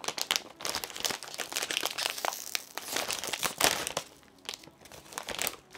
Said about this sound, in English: Just rip the corner.